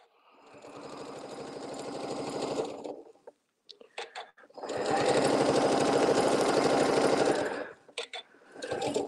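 A sewing machine stitches fabric for a table mat, running in two long steady whirring bursts with a pause and a few short stitch runs between them, close and clear.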